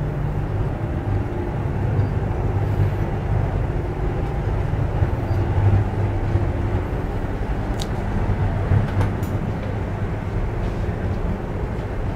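A steady, loud rushing rumble of a Fuxing high-speed bullet train running at 350 km/h, continuous low roar with faint hissing and occasional clicks, no voices.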